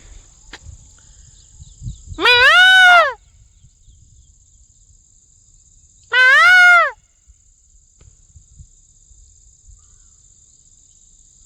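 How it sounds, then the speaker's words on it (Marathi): A peacock gives two loud, wailing calls several seconds apart, clear and fairly close, over a constant high-pitched insect drone. "मोरांचा आवाज वारंवार"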